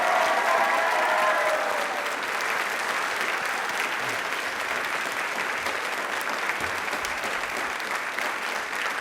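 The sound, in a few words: studio audience applause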